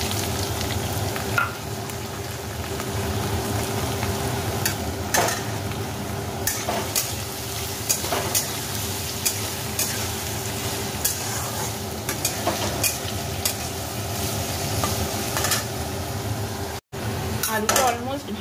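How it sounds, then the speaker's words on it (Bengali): Potatoes frying and being stirred in a pan, a steady sizzle with repeated scraping strokes of a utensil running the whole time, close and continuous, with a short break near the end. "এবার আলুটা দিয়ে দিচ্ছি।"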